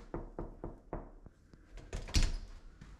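Several sharp knocks on a door, close and loud, in an uneven run of about five raps, followed by a couple of heavier thumps and rattling as the door is handled.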